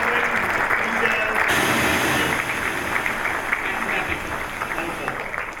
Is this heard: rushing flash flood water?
no